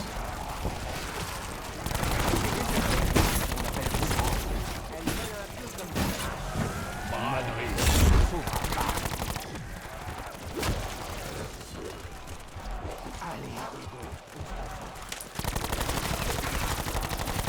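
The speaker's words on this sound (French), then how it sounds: "Encore des tirs." Dense gunfire in Black Ops 4 Zombies, sustained bursts and rapid shots loud and continuous throughout, layered with game effects and a busy, chaotic mix.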